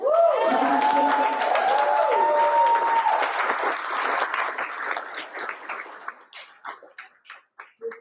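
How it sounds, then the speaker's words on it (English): Audience at a church annual meeting breaks into sustained applause over a voice at the start, the clapping holding steady before thinning out into scattered individual claps near the end. "I just want to make sure that we all give a round of applause and an amazing thanks to Jen and Karen."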